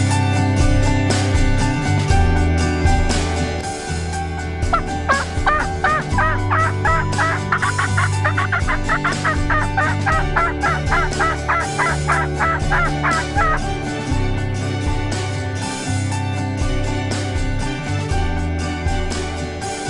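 Turkey calls blown by a hunter settled into a spot by a wheat field with decoys set out on an evening hunt, a run of rapid, fairly loud yelping notes in the middle over constant background noise.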